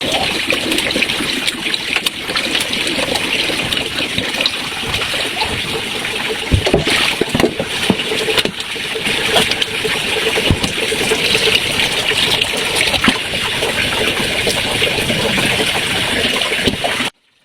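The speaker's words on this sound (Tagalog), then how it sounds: "nilalagyan ko na siya ng tubig" Water runs in a steady, continuous stream as it is poured into a cooking pot beside a kerosene stove, with occasional small knocks and splashes throughout.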